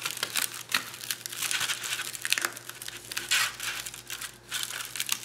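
Foil paper crinkles and crumples while being folded over an artwork backing, loud close bursts of rustling in uneven handfuls, with no voice over it.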